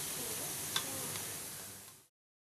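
Coconut milk simmering and reducing in a pan, a steady, close hiss of fine bubbling that holds evenly for about two seconds and then cuts off to silence.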